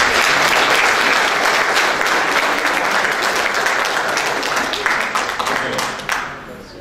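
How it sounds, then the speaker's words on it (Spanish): Loud, sustained applause from an audience at an awards ceremony in Peru, dense clapping that fades out toward the end. "Fuerte los aplausos, por favor."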